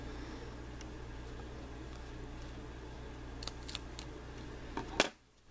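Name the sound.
scissors cutting crochet yarn loose ends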